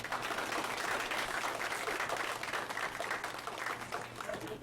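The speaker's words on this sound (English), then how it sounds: "Please help me give the speaker a round of applause." An audience at a startup and data science talk gives the speaker a round of applause, steady dense clapping from many hands throughout, fairly close and even in loudness.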